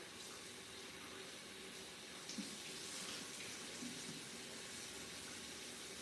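A kitchen tap runs steadily as frozen shrimp are rinsed under it, a continuous broadband water rush with faint splashes shifting as the shrimp are moved, heard alone without talk.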